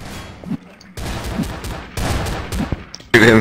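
Rapid in-game gunfire in Garry's Mod, with bursts of broadband shots in several clusters at moderate loudness, mixed with some speech-like sound; a louder, harsher burst closes the clip.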